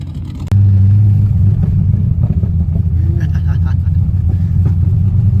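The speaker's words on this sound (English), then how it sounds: "Okay, time for a little test drive." A Corvette on a test drive starts up with a sudden loud roar, then its engine rumbles and revs steadily up close, with a voice over it.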